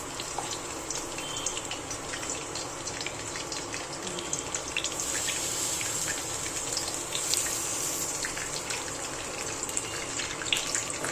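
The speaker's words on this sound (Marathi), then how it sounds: "आणि आता इकडे तेलामध्ये सोडायचे" Bell peppers stuffed with a spiced masala filling are lowered into hot oil, setting off a loud, steady hissing sizzle that runs unbroken and close throughout, with no voices.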